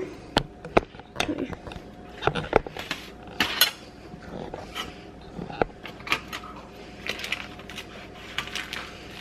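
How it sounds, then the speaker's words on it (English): A fork or knife scrapes and taps into a churro donut burned on the outside, giving sharp irregular clinks and crunchy scrapes close up with a faint murmur of voice underneath. "let me get a fork or a knife"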